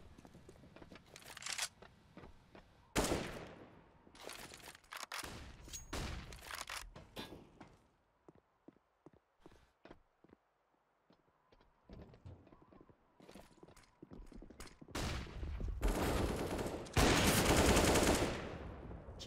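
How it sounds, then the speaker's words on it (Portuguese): Sharp bursts of gunfire in a Counter-Strike-style esports match come in scattered volleys, some loud and close, others faint, with quieter gaps between them. "Que hora de errar o tiro, hein, Zed?"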